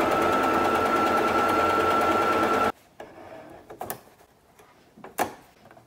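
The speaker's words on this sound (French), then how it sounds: "on va simplement coudre les extérieurs." A sewing machine stitches the outer seams of a homemade prom dress, a steady loud whirring hum for nearly three seconds that then stops abruptly, followed by a few soft handling knocks.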